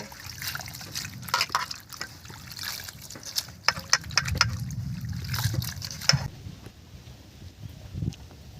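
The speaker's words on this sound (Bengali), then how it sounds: "এই রকমভাবে আমি ভালো করে কচলে কচলে ধুয়ে নেব।" Leafy purul greens being rubbed and rinsed by hand in water, giving irregular splashes, drips and squelching swishes at close range, with no talking.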